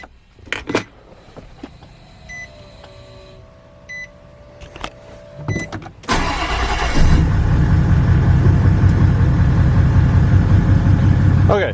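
A Nissan Titan XD truck engine cranks and starts after brief clicks and handling noises, then settles into a loud, steady, rumbling idle close by that runs to the end.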